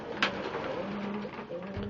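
Pigeons in a loft give soft low coos, a few repeated murmuring calls at close range, fairly quiet against a light background hiss.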